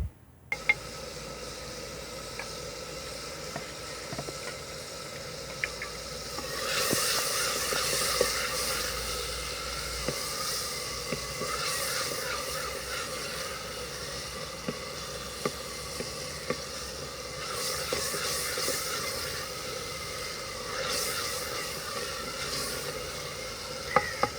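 Turmeric goes into cauliflower and vegetables frying in a pan during village-style cooking, a steady close sizzle running throughout with occasional stirring scrapes and light clinks.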